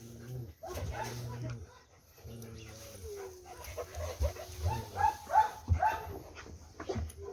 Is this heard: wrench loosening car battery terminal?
no